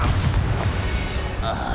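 Bombarda explosion spell cast during combat in Hogwarts Legacy, a short low booming blast with rumbling debris over steady game background noise.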